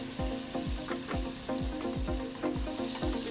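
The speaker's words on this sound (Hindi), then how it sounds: "अब मैं इसके अंदर टमाटर पेस्ट ये डालूंगी जो मैंने बारीक चॉप किए हुए।" Tomato paste of finely chopped tomatoes tipped into a hot pan for an arvi and chicken salan, with a loud, steady oil sizzle and a repeating stir-scrape roughly twice a second close by.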